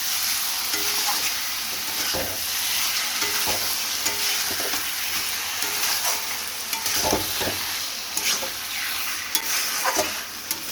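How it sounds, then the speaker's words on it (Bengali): Lotte fish stir-fried in a pan with fried potato and onion: continuous close sizzling with frequent sharp scrapes and knocks of a spatula stirring the mixture, no voices present. "সেখানে আলু আর পেঁয়াজ ভাজাটাও দিয়ে দিচ্ছি এবার ভালো করে এটাকে কষিয়ে নেবো"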